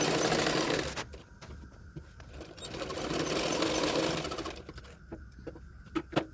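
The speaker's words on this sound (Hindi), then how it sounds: "इसी तरह से गुलाई करते हुए सिलाई कर लूँगी" A sewing machine stitches around the curve of a blouse sleeve, a close rapid mechanical whirr in bursts with pauses between runs and a few clicks near the end.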